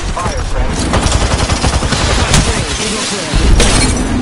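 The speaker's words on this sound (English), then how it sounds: "I just shot through the lifeline like butter!" Rapid automatic gunfire from the video game Apex Legends, dense bursts of shots crackling loudly and continuously, with a heavier blast near the end and excited voices mixed in underneath.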